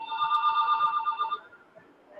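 Telephone ringing indoors during a group training session, its double-toned electronic ring repeating steadily for over a second before cutting off, with quiet room noise after.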